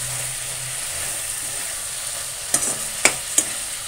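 Carrot halwa of grated carrot, milk and sugar bubbling softly on a low flame, with a faint simmering hiss and a few quick spoon scrapes and taps against the pan near the end.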